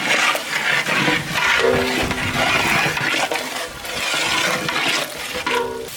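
Spices being stirred into chicken biryani gravy in a pan, a ladle scraping and sloshing through the thick mixture in repeated strokes over a soft sizzle, close and fairly loud.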